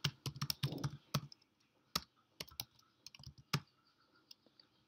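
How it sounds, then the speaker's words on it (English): Keys clatter on a computer keyboard in quick, irregular bursts of close, crisp taps with brief pauses between runs. "Don't forget to type your package name"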